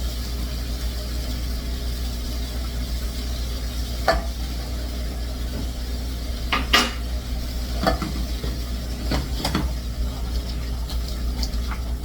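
Leek sautéing in a pan with a low, steady sizzle, broken by several short scraping stirs and clinks of a utensil against the pan, with no talk over it.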